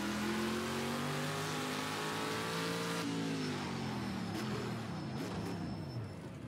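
A Sauber C9 LM race car in Project CARS 2 roars steadily, its engine pitch sliding down then climbing again as it shifts and accelerates, loud and continuous with a faint high whine.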